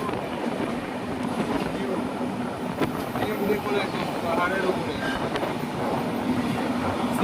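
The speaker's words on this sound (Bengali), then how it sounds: "চা বাগানের পাশ দিয়ে ছুটে চলেছে আমাদের ট্রেন।" The 15483 Sikkim Mahananda Express runs between Alipurduar and Siliguri past tea gardens, giving a steady rolling rumble with faint rail clatter throughout, while someone speaks over the noise.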